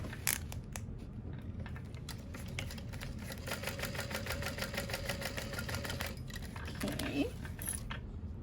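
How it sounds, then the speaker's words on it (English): A sewing machine runs in a short steady burst while stitching a batwing wallet, its fast rhythmic clatter preceded by scattered clicks and handling noises, with a brief rustle near the end. "you're gonna sew above that one"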